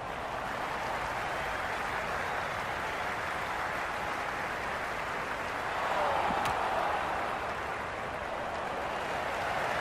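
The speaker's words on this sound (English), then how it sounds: "the excitement emanating from this crowd at the moment" Steady crowd roar from spectators at a Pakistan vs New Zealand match in the cricket video game Cricket 26, a dense wash of noise that swells briefly midway.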